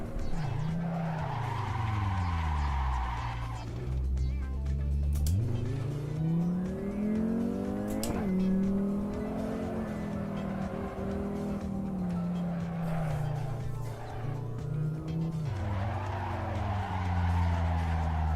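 A car power-slides in the Assetto Corsa racing sim, its engine revving and swooping in pitch as the tires squeal and skid continuously for the whole stretch, loud and close.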